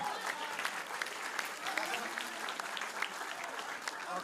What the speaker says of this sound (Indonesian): Tepuk tangan sekali lagi buat.